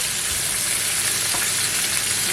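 Chicken pieces fry in a pan for poulet basquaise, giving a loud, steady, close sizzle of hot oil with faint stirring, and no one talking.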